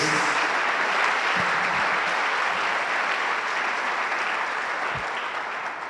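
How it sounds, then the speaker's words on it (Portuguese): A church congregation applauds together in steady, dense clapping that fills the whole stretch, loud and continuous with no speech over it. "Vamos aplaudir ao Senhor por isso?"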